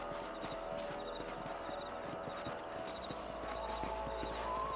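Horse hooves clip-clop at a steady walking rhythm in the Red Dead Redemption video game, heard alongside a continuous background bed of music and ambience with no talking.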